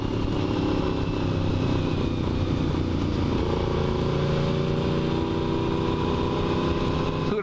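Despatch Tracker motorcycle riding past with a loud, rumbling exhaust, a steady dense engine roar filling the whole stretch without pause.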